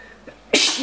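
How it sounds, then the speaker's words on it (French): A single loud sneeze bursts out after a brief quiet breath, close and sudden, ending in a short trailing exhale. "Ah, j'ai envie d'éternuer, au secours."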